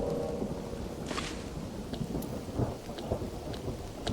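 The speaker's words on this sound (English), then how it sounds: "And here comes the rain." Rain and thunder in the video game Mind Over Magic. A steady downpour of rain sounds alongside low, rolling thunder, and a few brighter crackles rise above the dense, continuous wash. No voices are present.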